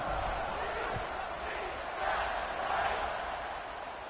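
Steady roar of a college football stadium crowd before a kickoff, a dense, continuous wash of distant voices and cheering filling the whole stretch at an even level.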